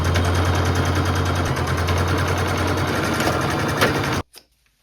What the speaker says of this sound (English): I'm gonna use my standard sewing machine now